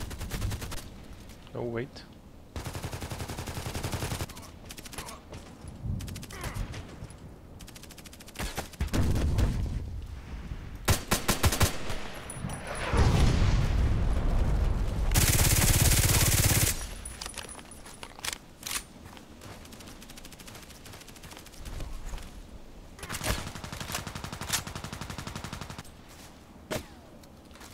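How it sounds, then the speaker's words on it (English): Gunfire in a shooter video game, with sharp, loud single shots and rapid automatic bursts scattered over nearly half a minute, mixed with metallic clatter and a brief spoken remark. "Why is he shooting at me?"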